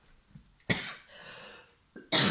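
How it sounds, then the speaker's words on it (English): A single harsh cough bursts out, followed by a short wheezy breath and then a second loud cough, close to the listener with no talking. "I've got an awful bad cough just now."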